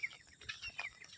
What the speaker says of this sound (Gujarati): ચકલોનો અવાજ બી સાંભળી શકાય છે।